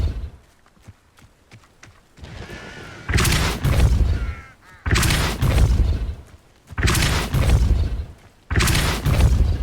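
Hogwarts Legacy's Depulso spell fires repeatedly in the Forest Vivarium, four loud, heavy whooshing blasts spaced about two seconds apart, preceded by fainter clicks and rumbling.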